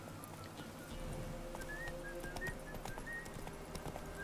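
Horse hooves clip-clopping in a rain-soaked video game, a steady stream of soft hoofbeats over a constant wash of rain and ambient background noise, with faint bird-like whistles above.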